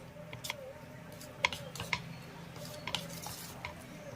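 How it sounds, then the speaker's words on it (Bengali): A spoon stirs baking soda into a Maggi noodle batter in a bowl, giving soft irregular scraping with a few sharp clinks against the bowl, close and quiet. "বেকিং সোডাটাও ভালো করে মিশিয়ে দেবো"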